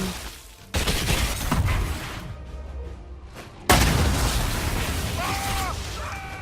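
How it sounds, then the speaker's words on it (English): A spell blast from the video game Dragon Age Inquisition, two sudden booming bursts arriving a few seconds apart, each followed by a sustained roaring rumble, with faint tonal game sounds trailing near the end. "And explosion."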